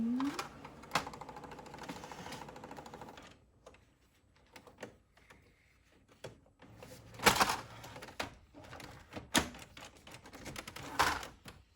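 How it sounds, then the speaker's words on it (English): A home art print printer runs in close bursts of rapid mechanical clatter and ticking, separated by quieter pauses, with no voices. "Now I start to print."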